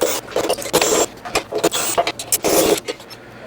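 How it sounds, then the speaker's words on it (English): Bolts being worked loose from the legs of a budget stump grinder during setup: repeated close metallic ratcheting and scraping bursts in an irregular rhythm, fairly loud, with no talk. "we can just take those bottom bolts out and get those legs free"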